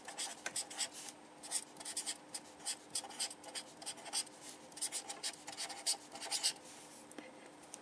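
A pen writes by hand while maths working is done, a quiet, close scratching in quick bursts of strokes with short pauses between them.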